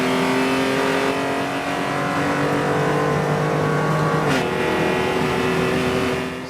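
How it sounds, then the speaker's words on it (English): A race car engine with a stock exhaust, nearly all mufflers removed except a resonator, drones loudly and steadily with harmonic tones, shifting pitch as it revs, no talking over it. "it's a stock exhaust with like basically almost every muffler removed apart from a resonator"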